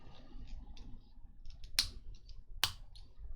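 Parts of a Hachette 1:200 Titanic model snap together: two sharp, loud clicks close by, spaced under a second apart, with fainter plastic ticks and fiddling around them.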